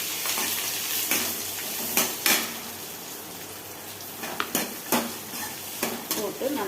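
Finely chopped large onions fry in a pan for a goat head kurma, giving a steady hiss with repeated spatula scrapes and taps against the pan, close up, with no talk.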